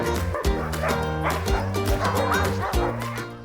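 Sled dogs in a dog enclosure bark, yip and whine together in a noisy, overlapping chorus, close by and loud, with sharp barks breaking through the steady whimpering.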